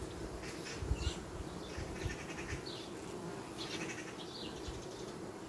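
Honeybees from a queenless colony buzz in a dense, steady drone around the hive frames, close and continuous with no voices.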